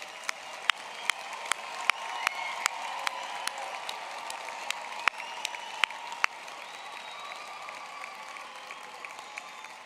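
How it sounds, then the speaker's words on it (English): Audience at a University of Pretoria health sciences graduation ceremony applauding graduates, steady crowd clapping with a few sharp, close individual claps standing out over the continuous wash. "let's applaud all our graduates this afternoon."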